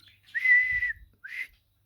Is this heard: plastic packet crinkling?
no